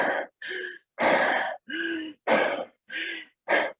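A voice imitates Kussmaul breathing during an acid-base balance lesson: seven loud, deep, rapid breaths in a steady rhythm, each separated by a short pause, heard close up.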